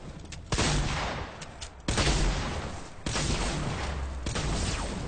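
Gunfire in the video game Fortnite cracks out in four loud, close bursts, each a sharp blast trailing into a dense rumbling echo.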